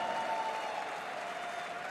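Crowd applauding at an esports major quarter-final, a steady wash of clapping and cheering heard from a distance, fairly faint and unbroken throughout.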